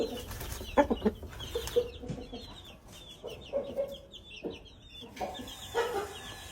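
A rooster clucks repeatedly in short, irregular bursts, fairly close, with other faint bird sounds and rustling around it.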